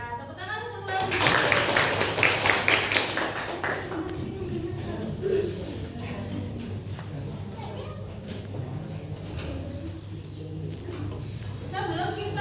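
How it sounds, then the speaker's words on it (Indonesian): Schoolchildren in an Indonesian classroom burst into a round of clapping, loud and rapid for a few seconds, then fade into chatter and a teacher's voice under faint background noise. "Ya, tepuk tangan untuk lagi."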